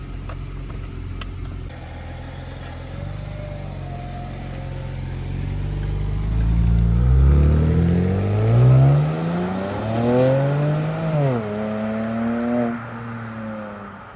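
A BMW 335i with the N54 engine, just overhauled with new gaskets, idles and then pulls away on a drive, revving up through several gear changes with rising and falling engine tones, close and fairly loud.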